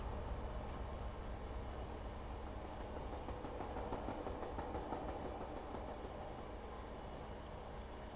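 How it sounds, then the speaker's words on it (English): A train runs past on the line near Chippenham and Swindon, giving a steady, loud rumble with rhythmic clickety-clack of wheels over the rails that holds for several seconds, with no talking. "Watch the train go past."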